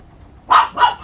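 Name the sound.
dog barking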